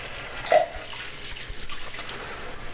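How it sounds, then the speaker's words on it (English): Dishes are rinsed by hand under a running tap, with splashing, uneven water noise and a brief louder splash early on. "Just rinsing out the schmutz out of this."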